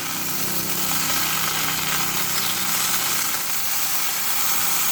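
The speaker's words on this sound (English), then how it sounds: "Listen to that sizzle." Steady, dense crackling hiss of turkey bacon frying in a smoking pan, continuous and fairly loud throughout, with a low rumbling hum underneath.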